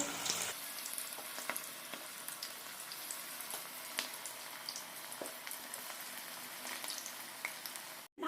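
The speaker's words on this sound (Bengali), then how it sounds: "বড়া ভাজা হয়ে গেছে" Steady crackling sizzle of cabbage fritters deep-frying in hot oil, continuous and close, with occasional pops and no voices.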